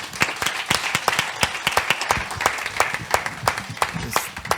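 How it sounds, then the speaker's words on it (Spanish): Applause from a church forum audience praising the Lord, a dense run of overlapping hand claps with sharp individual slaps standing out, steady and moderately loud throughout, no voices on top. "Damos un aplauso al Señor"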